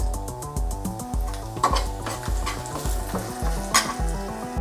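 Dried red chillies, green chillies and turmeric fry together in a pan with a loud, continuous sizzle and crackle, with occasional spoon scrapes against the metal and no voices.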